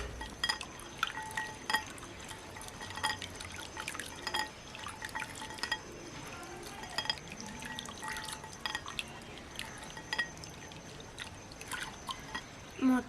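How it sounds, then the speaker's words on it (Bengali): Green peas are washed in water, with steady dripping, splashing and light glassy clinks throughout, close and continuous without talk. "মটরশুঁটিগুলো এখন আমি ভালোভাবে জল দিয়ে ধুয়ে নেব।"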